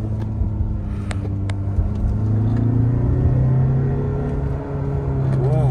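Engine of a 2023 Tata Harrier SUV rising and falling in pitch as it revs, a loud close rumbling drone with a brief sharp climb near the end.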